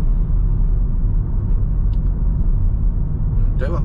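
A vehicle driving along a road, heard from inside as a loud, steady low engine and road rumble, with someone speaking briefly near the end.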